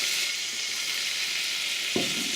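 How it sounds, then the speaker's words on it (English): Wine is poured into a hot frying pan of crispy braised ox cheek meat, giving a steady loud sizzle and hiss throughout. Near the end a sudden burst of fresh sizzling flares up as the liquid hits the pan, with no talking. "we're just going to chuck a little glug of wine on top of that."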